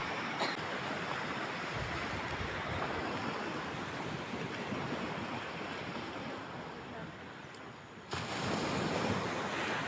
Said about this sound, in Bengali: আমাদের দীঘাপুরীর সমুদ্র কি সব কিছুকে হার মানিয়ে দেবে এই সমুদ্র।